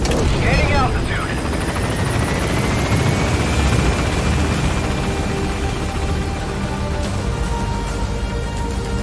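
A helicopter in Metal Gear Solid V roars loud and close as it climbs, its rotor throb and engine whine filling the scene continuously while a voice speaks over it.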